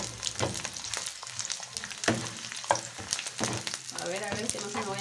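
Chiles de árbol toast in hot oil in a frying pan for a pineapple salsa, crackling busily with frequent spatula taps and scrapes, close and without talk.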